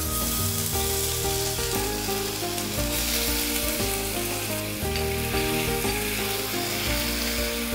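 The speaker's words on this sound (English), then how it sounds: "Waiting for the oil to get heated, we add in the garlic ginger paste." Garlic ginger paste frying in hot oil for paneer bhurji, giving a loud, steady, continuous sizzle from close by, with a tonal background hum underneath and no talking.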